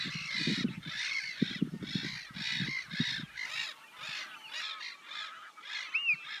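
Crows cawing and geese honking in a steady, dense chorus at the Loons and Brodgar lochs reserve in Orkney, with many overlapping calls, some close and loud, alongside lower grunting calls in the first half.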